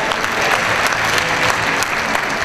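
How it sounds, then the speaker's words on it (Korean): A studio audience at a talk show on village community-building claps steadily to welcome a guest, a dense, even wash of many hands filling the room without pause. "박수 한번 해주십시오."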